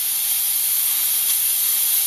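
Steam hisses steadily from a T-fal Clipso stainless steel pressure cooker, a loud, constant high-pitched jet that continues unbroken with no talking.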